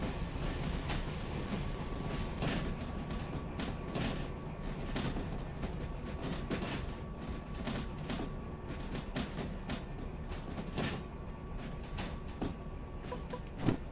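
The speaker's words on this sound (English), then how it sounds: "I'm going to shove that caboose back a little further" Locomotive shoving a caboose in the Derail Valley train game: steady rumbling rail noise with faint clicks and hiss, a sustained hum throughout and a sharper knock near the end.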